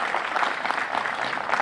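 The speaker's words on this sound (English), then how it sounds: "Yes, applaud that." Steady clapping from a crowd gathered outdoors for the first Westfield pride flag raising in 2020, a continuous patter of many hands, moderately loud.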